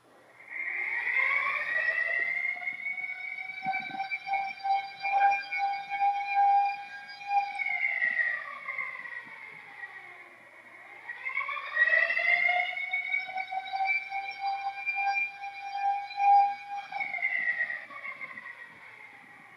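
A school fire alarm wails in two long rising and falling cycles, a loud electronic siren tone that swells, holds, then dips before repeating, with no other sound.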